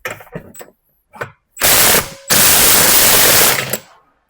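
A socket wrench removes bolts from the shroud of an SXi, with a few short ratcheting bursts followed by long, loud, continuous mechanical whirring, close to the microphone and with no talking.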